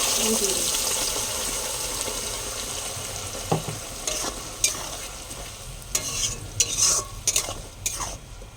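Onion, turmeric, chili, garlic and ginger paste frying in a pan with a continuous soft sizzle, broken by scraping and stirring clatters toward the end, close up and moderately quiet.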